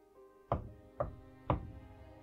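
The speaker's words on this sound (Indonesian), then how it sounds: "suara pintu diketuk membuatku menoleh" Three evenly spaced knocks on a door, about half a second apart, sharp and fairly close against a quiet room with a faint low hum.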